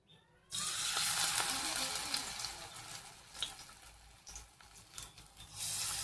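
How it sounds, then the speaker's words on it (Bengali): Neem leaves fry in oil in a pan before eggplant goes in, a loud continuous sizzle that starts abruptly and holds steady, with a few light stirring clicks near the end. "নিম পাতাগুলোকে একটু ভাজা ভাজা করে বেগুনগুলো দিয়ে দেবো এর মধ্যে"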